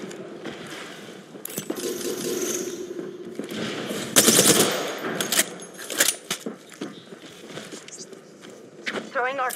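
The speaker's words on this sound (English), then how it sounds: "Getting shot at." Gunfire from the video game Apex Legends crackles in rapid bursts and scattered shots amid clattering game effects, with a player talking over the action.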